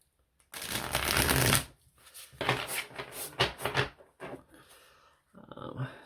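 A tarot deck is riffle shuffled up close: a long rapid flutter of cards, then several shorter riffles and bridges with pauses between them.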